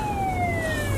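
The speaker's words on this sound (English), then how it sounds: "Oh, there's another police car." A police car siren wails nearby with a steady, slowly falling tone and a strong overtone. It sits over a low rumble of road traffic.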